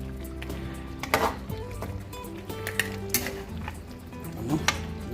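Pork ribs stirred in a pan in a home kitchen, with clinks of a utensil against the pan, soft scraping and a light sizzle, close and moderately loud with no talking.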